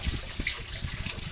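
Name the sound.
water constantly trickling out of an aquaponics grow bed drain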